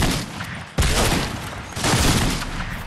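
Shotgun blasts in the Fortnite video game, two loud booming shots close by with a short gap between them, over continuous in-game noise and no speech.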